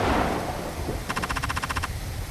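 Rain in the video game Little Red Lie falls as a steady, soft hiss, with a brief rapid ticking pattern partway through and no speech.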